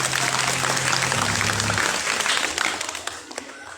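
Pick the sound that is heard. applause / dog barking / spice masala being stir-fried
applause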